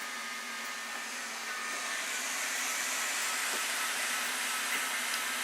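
Steady broadband whooshing hum of the fans on a Sovol SV08 3D printer, loud and constant with no pauses.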